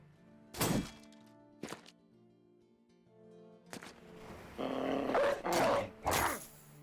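War dogs in Battle Brothers join a fight: sharp thuds and impacts come first, then a dense burst of barking, snarling and combat noise, fairly loud and close, with no speech.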